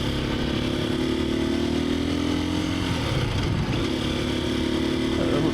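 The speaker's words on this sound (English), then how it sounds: "That sounded like a little bit better of an upshift." A Husqvarna FE350S motorcycle engine runs steady and loud close by, its note dropping briefly at an upshift before climbing again to a constant drone.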